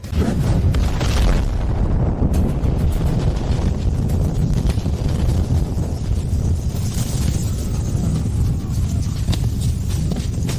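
A missile launch and explosion produce a heavy, continuous roar of deep booming rumble with gusty, wind-like noise, loud and sustained throughout.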